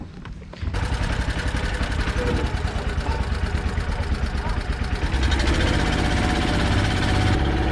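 A motor boat engine runs steadily and loudly throughout with a low, chugging rumble, growing slightly louder toward the end, on the water in Cambodia.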